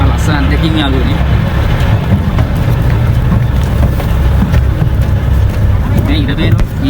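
Ferry boat crossing to Nami Island, South Korea: a steady low engine rumble and wind buffeting the open upper deck, continuous and loud, with voices talking over it.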